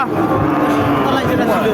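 A dry dairy cow at a cattle market lets out a long, loud, continuous moo close by, with a faint murmur of people in the background.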